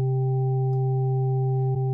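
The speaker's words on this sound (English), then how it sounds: "You probably hear three pitches there," A steady additive-synthesizer tone made of three stacked harmonic pitches holds evenly for two seconds, with a tiny blip near the end.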